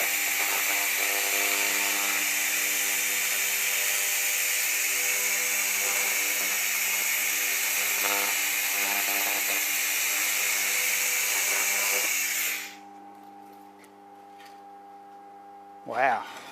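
An AccTek 1000W fiber laser cleaner scanning metal gives a steady, loud buzzing hiss for about twelve seconds, then cuts off, leaving a quieter hum and a brief clunk.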